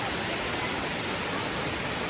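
A steady roar of Mae Kampong waterfall near Chiang Mai, Thailand, dense and unbroken, filling the whole clip at constant loudness with no talking.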